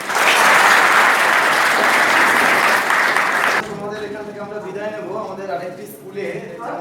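Students at a school gathering clap loudly in a thick, roaring burst that lasts over three seconds and then cuts off, leaving someone speaking over faint room noise.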